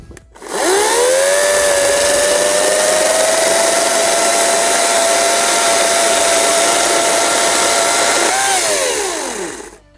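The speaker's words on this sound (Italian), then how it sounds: "è solo per farvi vedere in tempo reale come taglia questa motosega qui" An EGO CS1401E cordless chainsaw with a 35 cm bar revs up and runs loud and steady for several seconds, its motor whine holding pitch while cutting wood, then winds down.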